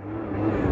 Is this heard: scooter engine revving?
yes